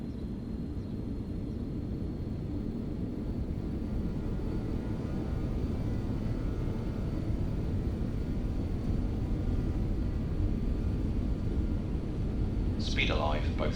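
The jet engines of a BAe146 in a flight simulator spool up to takeoff power for departure from Albuquerque, a steady, even roar with no gaps, and a brief voice enters right at the end.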